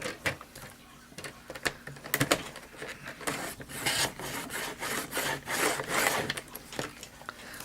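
A paper trimmer's cutting blade rolls along its rail and slices through paper, giving repeated close, raspy scraping strokes of varying loudness, with no talking.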